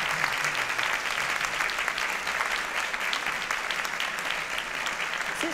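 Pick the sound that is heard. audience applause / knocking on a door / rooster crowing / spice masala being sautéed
audience applause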